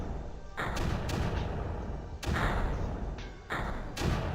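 Cannons fire in the video game Creeper World: heavy booming blasts land about every second or so over a constant rumbling bed of gunfire, loud and close, with no talking.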